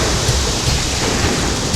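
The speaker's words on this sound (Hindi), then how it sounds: "मूसलाधार बारिश हो रही हो।" Thunderstorm with torrential rain: a dense, steady roar of heavy rainfall with low rumbling thunder underneath, continuous and loud throughout, with no voices.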